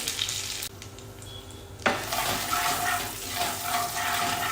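Green chilli, curry leaves, asafoetida and turmeric hit hot tempering oil with a loud sizzle that flares sharply partway through, then a steady crackling fry with some stirring, no voices.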